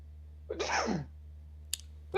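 One short, sharp sneeze in a quiet indoor room, with a faint click afterward and a low steady hum underneath.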